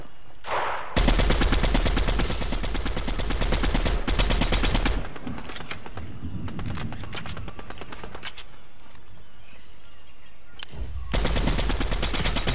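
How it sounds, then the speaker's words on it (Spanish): Automatic gunfire in a battle royale style shooter game, loud bursts of rapid shots at the start and again at the end, with a quieter stretch of distant firing and movement in between. "Disparos por allá."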